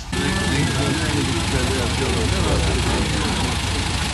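A parked car's engine idles as a steady, loud, even rumble with broadband hiss throughout, unchanging and uninterrupted by voices.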